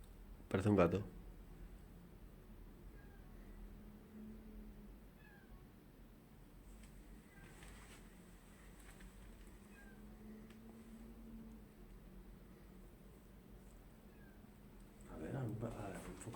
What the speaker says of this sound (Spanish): Yo diría que sí que es un gato